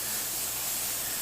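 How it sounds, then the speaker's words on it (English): An airbrush sprays paint in a light, steady mist, giving a continuous soft hiss that holds at an even level throughout without pause. "I'm spraying really light"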